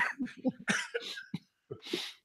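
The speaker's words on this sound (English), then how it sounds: "I laugh too hard. I just start coughing." A series of harsh coughs and throat-clearing bursts from a person with a cold, close and fairly loud, broken by short pauses.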